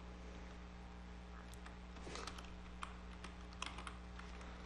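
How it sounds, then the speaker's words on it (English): Light typing on a computer keyboard: a few soft, scattered key clicks, faint and close, over a steady electrical hum. "So I'm just going to go up here and type in animate."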